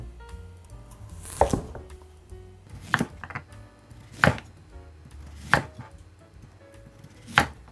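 A kitchen knife slices a radish into 1.5 cm thick rounds on a cutting board, about five sharp, evenly spaced chops, close and distinct, with no talking.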